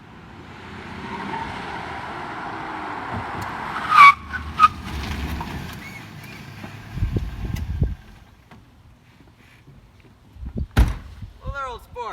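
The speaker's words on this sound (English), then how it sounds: "One morning, Gatsby comes and picks up Nick in his supercar" A custom supercharged Rolls-Royce supercar pulls up with a short tyre skid, followed by a sharp door slam and a second thud, then quieter knocks and a voice near the end.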